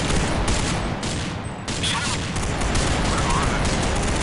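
Gunfire in a Counter-Strike Zombies match: dense, continuous rapid shots and booms fill the whole stretch, loud and close, with a brief dip partway through before the fusillade resumes.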